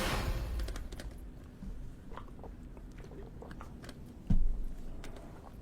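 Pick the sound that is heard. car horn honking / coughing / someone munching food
someone munching food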